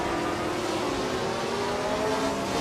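A 1962 Porsche 804 race car drives in a racing game, its engine giving a steady, continuous drone with a sustained tonal whine, loud and unbroken throughout without any talk.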